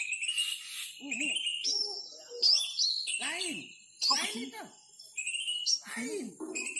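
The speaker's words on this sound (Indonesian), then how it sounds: "Yang suara kutilang tadi nak langsung nyaut ya" A sooty-headed bulbul gives repeated bright, whistled chirps close by in a forest, while people talk quietly underneath between the calls.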